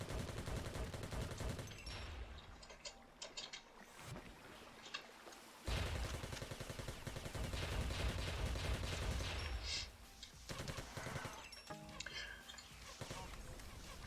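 Rapid gunfire in the game Marathon: Eternal X, with loud repeated shots and bursts firing in steady rhythm across the clip, some stretches denser than others, broken by brief lulls.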